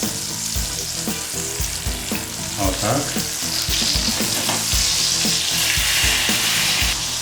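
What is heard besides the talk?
chicken roulades frying in a pan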